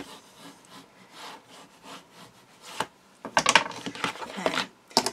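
A hand tool rubs and burnishes paper down into place while an album is being built, giving soft scraping strokes that grow into a burst of louder, quick rubbing passes near the end.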